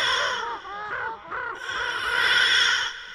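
Cartoon crows caw in a quick run of hoarse, harsh calls, fairly close and clear with no talking, in a British children's animated series.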